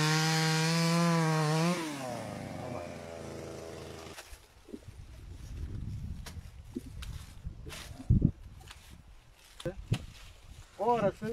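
A chainsaw prunes a hazelnut tree, its engine whining steadily for about two seconds before cutting off, followed by woody cracks, rustling and thuds as people talk nearby.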